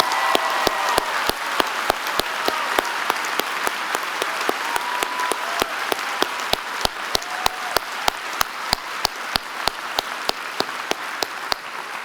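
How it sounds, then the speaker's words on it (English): Audience applause at a law school commencement, a sustained loud wash of many hands clapping, with a strong rhythmic clap beat pulsing steadily throughout. "Ladies and gentlemen, please give them another round of applause."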